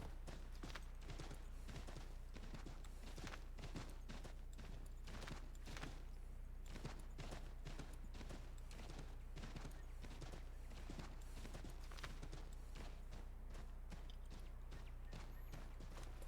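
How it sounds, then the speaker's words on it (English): A horse gallops in Assassin's Creed III, with rhythmic hoofbeats pounding steadily and close over a low constant hum, the gait continuing unbroken throughout. "I brought my own horse."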